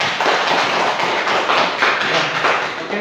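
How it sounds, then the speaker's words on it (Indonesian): A class bursts into steady applause, a dense patter of many hands clapping close by for a few seconds, with a brief spoken remark over it. "Oke, ya, tepuk tangan dulu"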